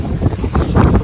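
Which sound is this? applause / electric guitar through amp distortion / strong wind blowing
strong wind blowing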